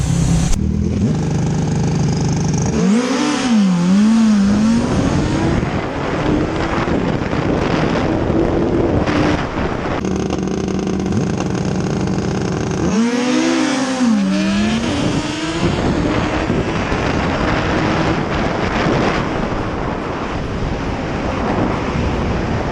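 Yamaha R6 sportbike on a drag strip qualifying pass, a loud engine howl climbing in pitch through quick upshifts in two bursts, with wind buffeting throughout.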